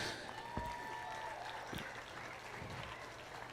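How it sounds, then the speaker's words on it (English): Faint, scattered applause for volunteers at a junior livestock steer show, thin clapping heard at a distance with a few louder knocks and some background hum. "give a big round of applause for all your volunteers"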